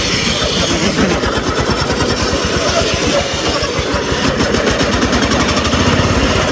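Racing lawn mower engine pulling hard in third gear, a loud, continuous, fast-pulsing buzzing roar held at steady speed throughout, close to the mower with no voices.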